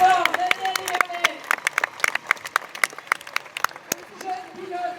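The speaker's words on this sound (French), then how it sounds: "Un tonnerre d'applaudissements" A crowd at an outdoor tractor pulling event in Villes applauds a driver with a dense burst of clapping, while an announcer's voice speaks over the start and end.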